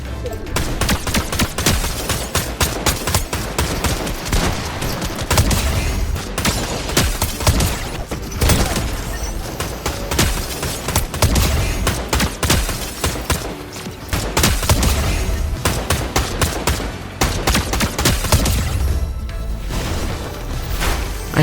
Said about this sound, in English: I then found the Enhanced Enforcer AR